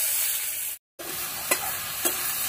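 Grated ash gourd with cumin seeds sizzles steadily in a hot pan as it is stirred, with two distinct scraping strokes of a spatula above the frying hiss and one brief dropout.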